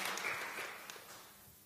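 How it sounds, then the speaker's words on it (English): Audience applause at an innovation café talk event, a soft, steady patter of clapping that stays fairly faint and gradually fades over a couple of seconds. "First applause."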